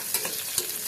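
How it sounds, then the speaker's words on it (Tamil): Onions sauté in oil and ghee in a pan with a steady, close sizzle, broken by a couple of soft stirring scrapes across the brief moment. "அப்புறம் கொஞ்சம் வெங்காயம் போட்டு நல்லா வதக்கிக்கணும்."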